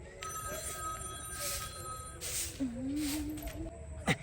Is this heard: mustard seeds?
no